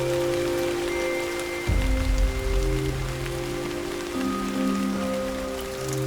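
Steady rain falls in the Bergisch Land region of Germany, a dense hiss of drops on surfaces with a brief heavier low rumble partway through, no voices.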